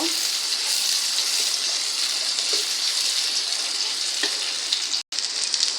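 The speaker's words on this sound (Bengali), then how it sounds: "রসুন পেঁয়াজ ভেজে নিব" Garlic and onion fry in oil for a dal tadka, giving a continuous bright hiss that stays even throughout and cuts out briefly near the end.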